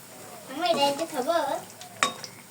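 Cabbage pakoras fry in oil with a soft sizzle and the scrape of a stirring utensil, a clink near the end, and a brief voice in the background.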